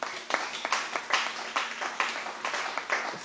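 An audience claps in a steady run of hand claps, moderately loud and rhythmic, with no voices over it.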